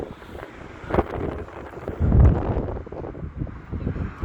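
Wind gusting along the Blackpool seafront at dusk as the tide goes out, a steady rushing roar with buffeting swells, loudest around the middle, heard alone without talk.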